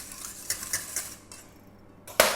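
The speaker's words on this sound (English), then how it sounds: "Just going to give that a stir through." A utensil stirs a two-phase micellar water mixture in a container, a few light clinks and scrapes close by, then one sharper knock at the end, with no talk.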